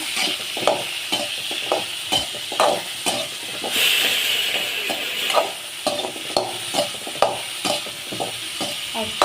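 Brinjal pieces sautéing in a pan sizzle steadily while a spatula scrapes and taps in a regular rhythm, close and fairly loud, with a brief louder hiss midway.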